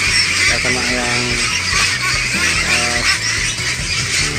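Ducks around 35 days old on a duck farm in Sidoarjo, a flock giving repeated honking quacks in bursts, close and loud, with someone talking over them throughout.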